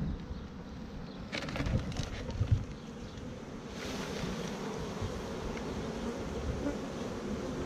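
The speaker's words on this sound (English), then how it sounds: "So shake your bees in that box." A loud, dense hum of many honeybees buzzing close by as they are shaken into a box, with a few brief knocks and rustles early on as the swarm swells.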